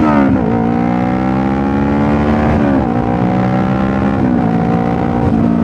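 A motorcycle accelerates on a closed road, its engine loud and close with rising revs that climb through gears, dipping briefly at each shift before pulling up again.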